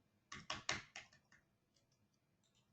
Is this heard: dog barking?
no